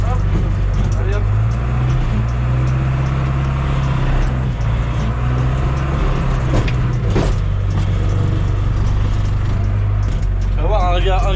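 A backhoe loader's diesel engine runs loud and close with a steady low drone, and its pitch shifts as the bucket is lowered and the machine turns, while voices talk over it.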